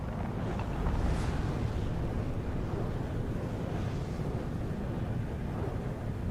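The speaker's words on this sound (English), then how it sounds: "The engine burn." A spaceship engine burn in the Starfield video game makes a continuous deep rumbling roar that stays steady and loud throughout.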